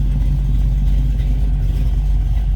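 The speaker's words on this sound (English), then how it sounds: "Let's go ahead and fire this up so you can hear it run." A 1980 Chevrolet Camaro Z28 engine running at a steady idle, a loud continuous low rumble close by with no talking over it.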